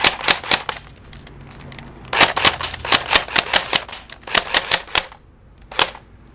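Pulse R71 airsoft gun firing in quick bursts of sharp snapping shots, first on full auto and then on semi-auto, loud and close with brief pauses between groups.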